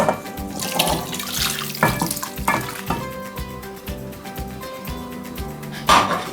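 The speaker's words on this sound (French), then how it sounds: "Alors je verse ma sauce à ma viande." Sauce with kub or stock cubes and olives splashes and trickles into a pan of meat, a steady liquid pour with some sizzling and clinks of utensils, fairly close.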